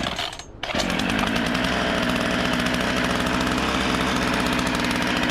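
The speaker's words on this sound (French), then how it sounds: "On accélère comme si c'était une vraie tronçonneuse." A VEVOR 40cc chainsaw engine starts up after a brief quieter moment, then revs into a loud, sustained buzzing snarl up close.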